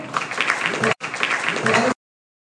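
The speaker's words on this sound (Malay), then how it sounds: "Beri tepukan gemuruh." A crowd at a national nasheed championship awards show gives thunderous applause: a dense, loud roar of clapping that breaks briefly, resumes, then cuts off abruptly after about two seconds.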